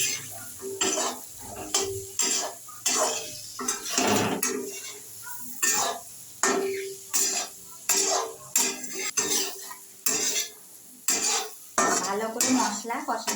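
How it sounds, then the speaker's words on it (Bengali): Tomato and Kashmiri chili powder stir-fried in a pan for a paneer curry, with a steady run of sharp spoon-on-pan scrapes and clinks over a soft sizzle, close and fairly loud, no talking. "আর দিয়ে দেবো টমেটো কুচি। এইবার দিয়ে ভালো করে কষিয়ে নেব।"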